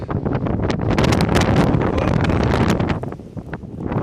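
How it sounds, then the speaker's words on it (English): Loud, strong wind buffets the microphone in heavy gusts in New Zealand, easing slightly near the end. "So windy here."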